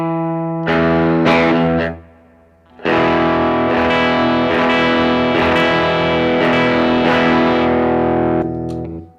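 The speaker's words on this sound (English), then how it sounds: "Let's throw some reverb on there." Distorted electric guitar with a reverb effect, played through a Joyo JA-03B headphone amp: a couple of short strums, a pause, then loud sustained chords with a reverb tail, continuous and unaccompanied.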